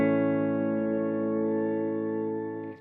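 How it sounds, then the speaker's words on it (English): A sustained electric guitar chord rings through a Hall of Fame reverb pedal, holding bright and steady before a quick fade and a soft rustle as it cuts off. "obviously the Hall of Fame works great just as a reverb if your amp doesn't have it"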